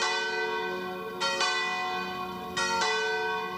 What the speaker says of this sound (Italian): Le campane hanno richiamato centinaia di amici nella chiesa monumentale di Castello Roganzuolo per l'ultimo saluto a Daniele Gnoffo